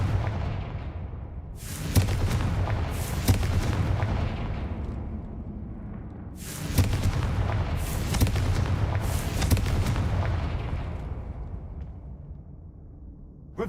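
Confringo fire spells in Hogwarts Legacy burst as repeated booming explosions, two clusters of sharp blasts with rumbling decays in between, loud and close, without any voice.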